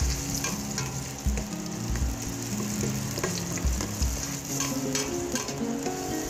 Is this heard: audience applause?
no